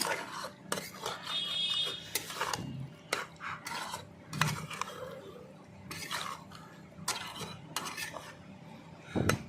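Sugar being stirred into a pot of pumpkin curry with dried lotte fish, a spoon scraping and knocking against the metal pot in irregular strokes, fairly close, with brief clinks and no talking.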